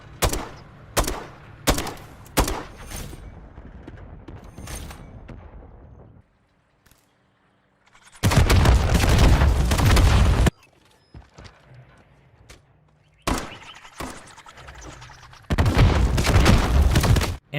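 Grenade launcher tube shots from a Modern Warfare III match on the Quarry map: a run of sharp, loud reports, some quick and clustered, alternating with sustained roaring bursts and brief quiet gaps, with no talk.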